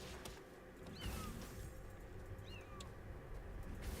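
Cat-like meows from a creature in the video game Palworld, two short rising-then-falling calls heard faintly over a busy, continuous game soundscape.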